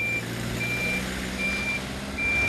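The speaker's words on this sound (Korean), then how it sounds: "요란한 짐차 소리와 함께 일과가 시작된다." A noisy laundry delivery truck at a Seoul laundry factory backs up, its reversing beeper sounding in steady repeated beeps over a low engine rumble.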